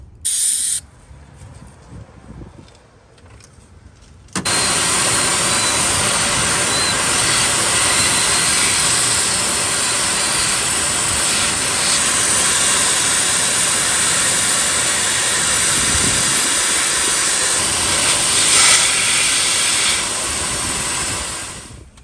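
Brake parts cleaner sprays from an aerosol can onto the bare cylinder walls of a Chevy engine during intake manifold gasket work, a loud, continuous close hiss lasting over fifteen seconds after a few quiet handling sounds.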